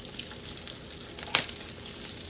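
Crab cakes frying in a frying pan give a steady, close sizzle throughout, with one brief sharper crackle or pop partway through.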